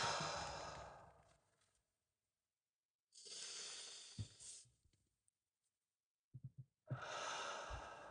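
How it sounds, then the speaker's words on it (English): A person takes a deep breath: a long airy inhale, a pause, then a full exhale and another breath, close and alone in quiet surroundings. "take a really big deep breath. Full inhale. Full exhale."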